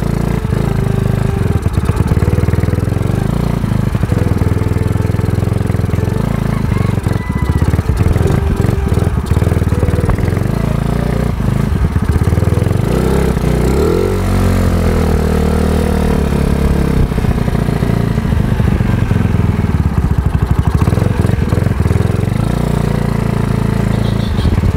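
A Yamaha Mio Sporty scooter-style motorcycle with a 59mm bore engine runs loud and close, with a continuous throaty drone that swells and dips slightly as the throttle shifts.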